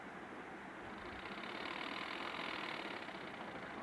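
A sewing machine stitches trouser fabric in a steady, fast mechanical whir that runs continuously and gains slightly in loudness, close by, with no voices.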